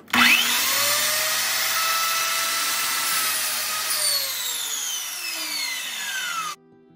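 Power saw cutting a wooden board at a 45-degree angle for board and batten trim, a loud steady whine running about six seconds with pitch sweeps as the blade goes through, then stopping abruptly.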